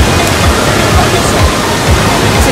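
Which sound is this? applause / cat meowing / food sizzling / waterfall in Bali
waterfall in Bali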